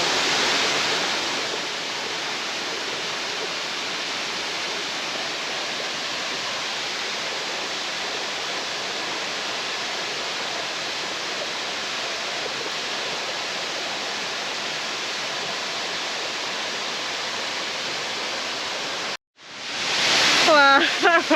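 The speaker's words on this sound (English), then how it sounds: "we've got a waterfall to ourselves" Tribulation Falls south of Cooktown, a steady loud rush of falling water that fills the scene without pause, ending abruptly near the close with a brief moment of people talking.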